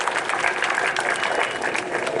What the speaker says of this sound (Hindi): तालियां बजाओ पुलिस वालों के लिए यार।